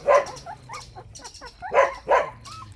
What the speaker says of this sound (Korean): 오늘 또 어, 백향이 딸이 강아지를 낳았어요.